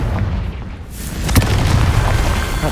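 A fire spell explosion from Hogwarts Legacy, a loud, close, rumbling boom with crackling burst and sustained roar, no talking.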